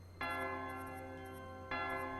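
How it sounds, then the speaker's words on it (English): Two deep, resonant strikes of a church bell in the video game King's Quest 2, heard in a forest, the first ringing out for well over a second before the second toll sounds. "The church bell is tolling."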